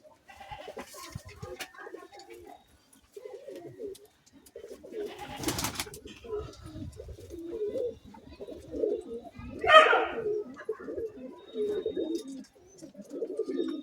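Pigeons coo repeatedly in low, throaty bursts while birds are being paired in a loft, with rustling and handling noise throughout and a sharp flutter near the middle.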